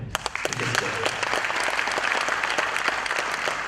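Steady applause from a crowd, dense clapping filling the whole stretch at a loud, even level.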